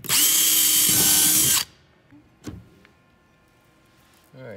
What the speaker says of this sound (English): you get your drill bit, which is a 13/32, and you drill your 11 holes all around.